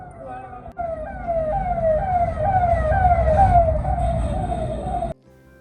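An emergency rescue team vehicle at Sabarimala races past with its siren wailing in loud, repeated rising sweeps over road rumble, then cuts off abruptly.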